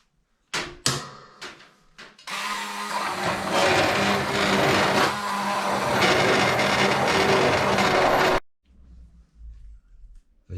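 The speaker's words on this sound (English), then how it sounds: "we like to blend it into a smoother soup" A blender purees pea and mint soup from allotment vegetables, starting with a few short clicks and pulses, then a loud steady whirring grind for about six seconds before abruptly stopping.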